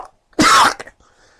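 A single sharp, harsh cough bursts out up close, followed by a brief rasping after-sound, then near silence.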